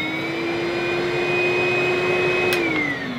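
A Henry Cordless vacuum cleaner runs close by with a loud, steady motor whine and airflow roar, its pitch dipping slightly near the end, with no talking over it.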